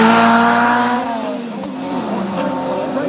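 A Lotus Elise R race car in the GT1 class at a hill climb roars loudly close by, its engine note sliding down then holding steady as it passes, with a commentator talking over it.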